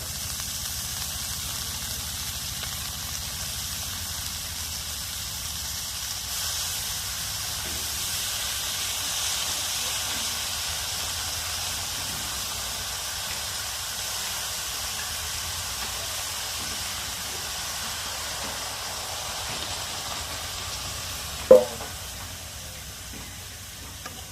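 Leaves dropped into a hot pan give off a steady, moderately loud hiss and sizzle that holds throughout, with a brief sharp clink near the end.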